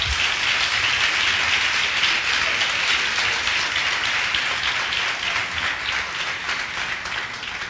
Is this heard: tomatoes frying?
no